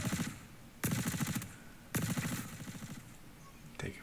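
Automatic gunfire from the space game Star Citizen comes in two loud rapid bursts of about half a second each, separated by quieter stretches, with a short third burst at the end.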